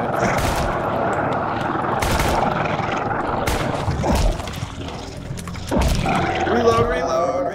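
Gunfire from a handgun in the horror game Darkwood, several sharp shots breaking through a dense, noisy game soundscape, with a talking voice mixed in.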